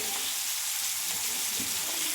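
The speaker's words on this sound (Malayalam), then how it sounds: "നമ്മൾ ആ മീനൊക്കെ പൊരിക്കുകയാണ് കേട്ടോ" Small mackerel fry in a pan with a dense, continuous hiss and sizzle, close and steady throughout with no talk over it.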